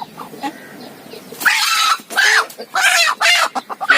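A native country hen clucks close by in short repeated bursts, with brief pauses between calls and a little background noise.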